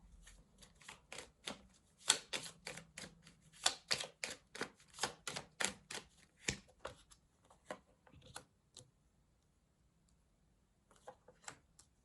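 A deck of Petit Lenormand cards is shuffled for a nine-card spread, giving quick close riffling snaps in dense bursts that thin out near the end into a few scattered taps.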